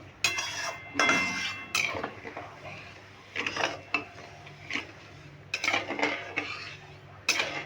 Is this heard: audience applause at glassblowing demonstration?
no